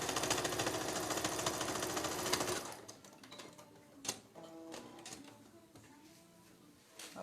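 A sewing machine stitches a patchwork seam, its rapid mechanical whirring loud and steady for the first few seconds, then stopping and leaving quieter handling noises and a few clicks.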